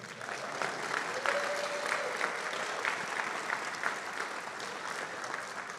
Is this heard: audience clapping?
yes